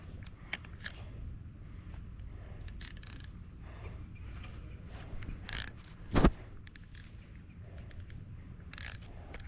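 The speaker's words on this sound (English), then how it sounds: "Let me loosen up my drag." A fishing reel's drag being loosened while bass fishing, giving short bursts of quiet ratchet clicking separated by pauses, close and faint against light background noise.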